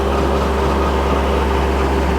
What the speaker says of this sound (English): They don't like the sound of the tractor.